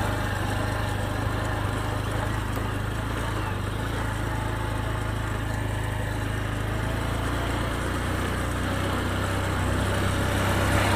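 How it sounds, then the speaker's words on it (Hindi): A motorcycle engine runs steadily at idle, a continuous low rumble with no talking. "ये देखो बाइक आवाज़ कर रहा है, आप आवाज़ सुन सकते हो।"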